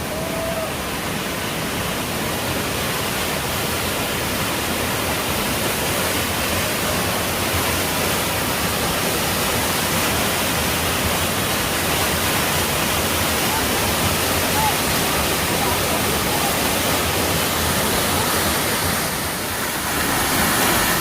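A steady, full roar of falling water, broad and unbroken for the whole stretch, like a large waterfall heard up close: a six-tiered waterfall in Seoraksan on a rainy day.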